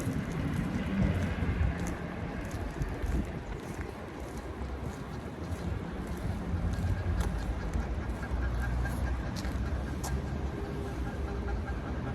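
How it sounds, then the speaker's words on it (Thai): Ducks quack and honk amid a steady, noisy outdoor wash, calls scattered throughout at moderate distance. "เสียงเป็ดแกรบแกรบแกรบแกบ"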